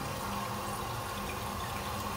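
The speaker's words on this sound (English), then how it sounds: "And you'll hear the toilet cistern turn on every so often." Toilet cistern refilling with water, a steady, continuous rushing hiss of flowing water that stays loud and even throughout, with no talking.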